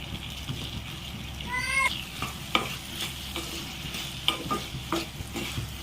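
Turkey berries (sundakkai) tossed into a hot pan, frying with a soft steady sizzle while a spoon scrapes and stirs in scattered knocks, plus one brief high chirping sound partway through.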